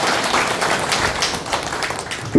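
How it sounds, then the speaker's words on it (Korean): Applause from a Korean party meeting audience, a dense, steady patter of clapping hands lasting a couple of seconds, fairly close and with no talk over it. "신정우 의원님께 큰 박수 한번 응원의 박수 주십시오."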